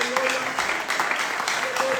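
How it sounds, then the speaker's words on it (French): A church congregation cheering and clapping, a sustained wash of applause with voices mixed in and a few sharper bursts, fairly loud and continuous. "Que tes acclamations continuent plus que celles de ton voisin."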